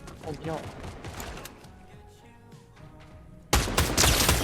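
Rapid gunfire erupts in the video game Fortnite, a loud sustained burst of shots in the final second after quieter game sounds, with someone talking excitedly in Thai earlier.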